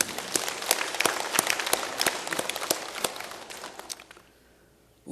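A congregation claps during a church service. Crisp, rhythmic claps ring out for about four seconds, then die away into near silence.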